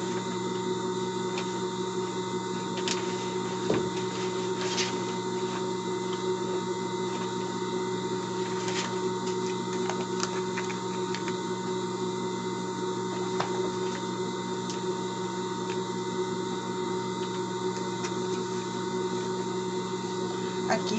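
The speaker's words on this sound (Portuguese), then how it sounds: "Aqui vamos passar uma costura juntando o metalacê com o nosso tecido principal" A sewing machine joins lace to the main fabric of a small pet dress, a steady continuous motor hum with faint clicks over about twenty seconds, while a voice talks over it.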